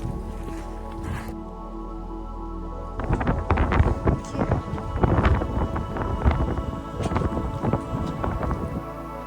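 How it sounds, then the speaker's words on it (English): Strong wind buffets a microphone on a hike on Scotland's Isle of Skye, a loud, low, rumbling roar that steadies briefly, then breaks into heavier, irregular gusting bursts. "It is so windy that you can't hear anything that I'm saying"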